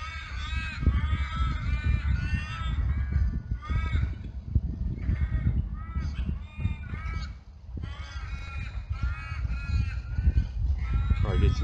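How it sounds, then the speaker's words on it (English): Many geese on a lake honk and call together in a noisy, overlapping chorus, fairly close and continuous throughout. "a lot of geese over there"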